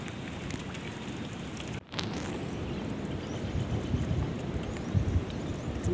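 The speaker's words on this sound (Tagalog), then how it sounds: "Umuulan na o. Umuulan na, umuulan." Steady rain hisses down on a surface, a dense even patter with no talking, briefly interrupted by a short dropout, heard while fishing by the water.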